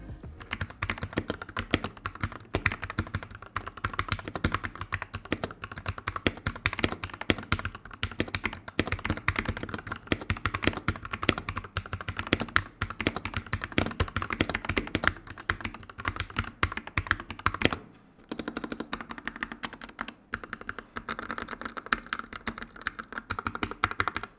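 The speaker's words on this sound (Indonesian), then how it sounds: "Jadi buat ngetik-ngetik itu rasanya agak nggak biasa buat row bagian atasnya" Continuous clattering keystrokes on a Rexus Daxa M64 Ultimate keyboard, a quick irregular patter heard up close, with a brief pause before the typing resumes.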